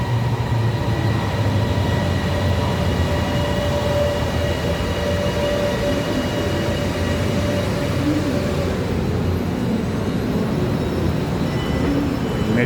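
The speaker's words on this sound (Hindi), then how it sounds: "मेट्रो आली आहे, पण पलीकडच्या बाजूला आहे ती." A metro train arriving on the far platform rumbles steadily for several seconds, loud and close, with a droning roar that eases slightly toward the end.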